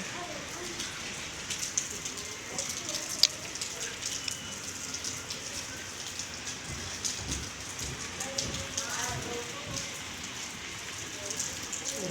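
Heavy rain falls all day, giving a steady wash of patter with scattered drops hitting nearby surfaces. It stays moderately faint and even throughout, with faint voices in the background.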